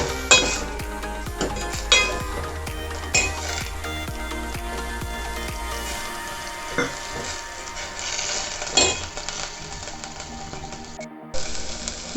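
Sliced ridge gourd cooks in a pan over a low flame after a sprinkle of water, with a steady sizzle and frequent metallic scrapes and taps from stirring; no voices.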